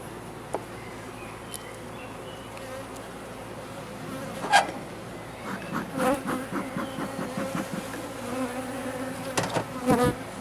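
Honey bees buzz steadily around an open hive during a brood frame inspection, a dense insect drone with sharper bursts as individual bees fly close past, plus a few faint clicks and knocks.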